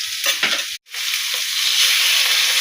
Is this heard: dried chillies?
yes